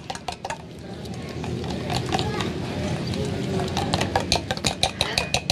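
A whisk beats eggs in a bowl, with rapid clinking and scraping strokes running steadily under ongoing talk, the tapping growing more distinct toward the end.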